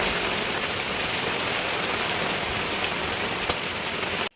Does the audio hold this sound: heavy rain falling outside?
yes